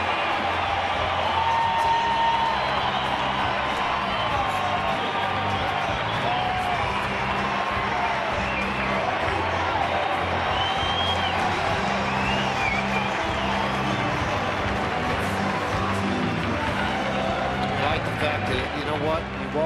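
A baseball stadium crowd roars in a sustained standing ovation for pitcher Tyler Matzek in a Rockies game, a dense, steady wall of cheering and applause that holds at full level throughout, with a voice talking over it.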